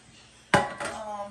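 A single metallic clank as a pan is set down or handled in a home kitchen, a sharp close knock with a short ringing tail, then quiet.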